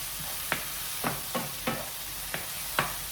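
Onions and garlic sizzle in a hot pan for a Filipino stir-fry of broccoli and canned tuna, a soft steady frying hiss broken by about six sharp scraping stirs at fairly regular intervals.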